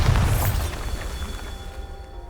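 A Bombarda explosion spell bursts in Hogwarts Legacy, a loud booming blast at the start that rumbles and decays into a lingering low tail over a couple of seconds.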